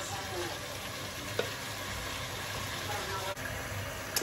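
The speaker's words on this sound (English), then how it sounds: "while the chicken is frying" Chicken sizzles and crackles steadily in a hot pan, with a couple of soft clicks and scrapes over the constant frying hiss.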